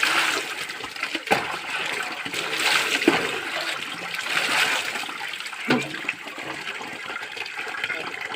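Cold spring water at an outdoor bathing spot near the Hanging Bridge in Balangseg splashes and rushes steadily, with a few sharper splashes and no talking.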